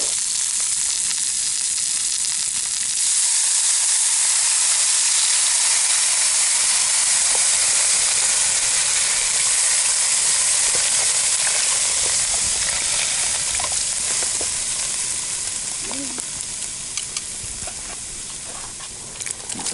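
Stock poured into a hot Dutch oven over a campfire, giving a loud, steady rush of sizzling and steam hiss that carries on for many seconds and slowly eases toward the end.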